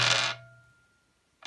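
Two dice rolled in a tabletop wargame give a short, close, bright rattling clatter that fades out, followed about a second later by a single brief click.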